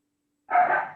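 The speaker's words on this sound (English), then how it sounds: "Our dogs are tuning in." A single short dog bark or yip sounds from a household dog during an indoor talk, moderately loud and near, starting after a stretch of silence and trailing off quickly.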